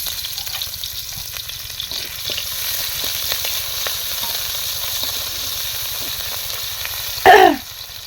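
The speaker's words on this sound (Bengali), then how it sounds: "তো তেলের মধ্যে দিয়ে দিল পেঁয়াজ" Onions dropped into hot oil for a Bangladeshi goat curry and bitter gourd fry set off a sudden loud sizzling burst near the end, after a steady low frying hiss and faint kitchen clatter.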